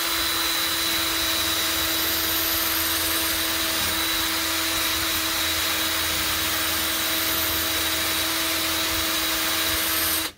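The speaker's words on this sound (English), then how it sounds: "I was just taking this and I was just wire wheeling it as much as I can" A wire wheel grinds steadily over a gear from a trailer fuel station pump, giving a constant, loud whirring hiss that runs unbroken for about ten seconds before cutting off abruptly.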